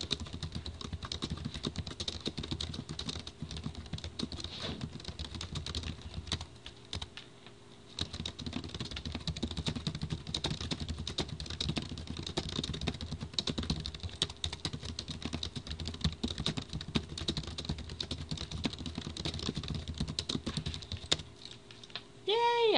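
Fast typing on a computer keyboard during a typing lesson, a dense continuous patter of close key clicks running almost the whole time with a brief pause midway.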